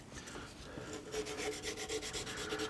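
Sandpaper worked back and forth over a guitar nut, giving soft, close rubbing strokes in a steady rhythm that grow slightly quicker and more distinct toward the end, with no talk.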